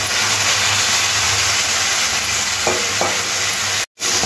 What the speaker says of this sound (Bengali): এবার সমস্ত কিছু খুব ভালো করে মিশিয়ে নেব।